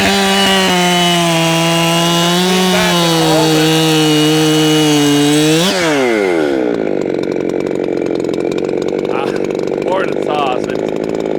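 A ported chainsaw fitted with a Sugihara bar and chain revs loud and close, then bites into firewood, the engine pitch dropping under load into a steady rough cutting drone, with faint voices in the background.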